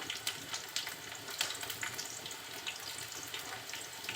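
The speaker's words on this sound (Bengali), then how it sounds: "আমি এর ভিতরে এখন চিংড়ি মাছগুলো দিয়ে দিব" Cleaned shrimp go into hot oil with softened onions for a bottle gourd and prawn curry, producing a busy, close, continuous frying sizzle with bursts of spitting crackle.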